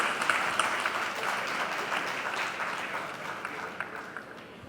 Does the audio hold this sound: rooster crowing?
no